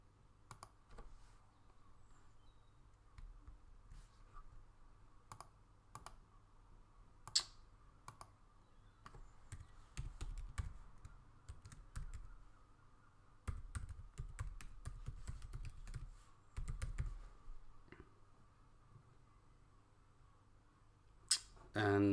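Typing on a computer keyboard at a desk: clusters of light, quick key clicks in bursts with pauses, fairly close and soft, over faint background hum.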